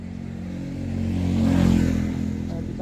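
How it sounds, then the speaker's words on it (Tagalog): A fast motorcycle approaches and roars past on a road, its engine rising to a loud peak midway and then fading slightly, heard alone. "Ay, mabilis ang motor."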